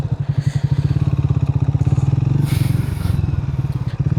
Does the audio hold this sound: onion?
no